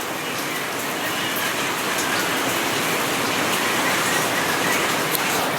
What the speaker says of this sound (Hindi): अभी बारिश पता नहीं क्या मजाक कर रही है, कभी आ रही है कभी जा रही है, और अब देखो तेज आ गई